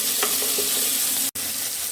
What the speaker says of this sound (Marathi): सर्व साहित्य परतून घेऊया